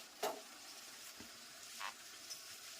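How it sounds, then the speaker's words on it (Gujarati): Bhakhri flatbread frying in a pan for ladoo makes a faint, steady sizzle, with a few soft stirring scrapes and light clinks now and then. "સરસ મજાની ભાખરી તળાઈ રહી છે લાડવા માટેની."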